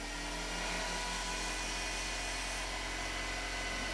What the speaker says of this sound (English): Speed the lathe up here a little now.